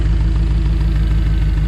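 A rebuilt Chevrolet Astro van engine with newly machined cylinder heads runs steadily at idle, a loud, close, continuous low rumble with an even pulsing rhythm.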